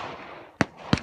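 Two sharp pistol shots fired at long range crack out about a third of a second apart, each a loud, short, near report standing alone over a quiet outdoor background.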